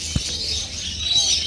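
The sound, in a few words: birds chirping at a bird shop in Souq Waqif, Doha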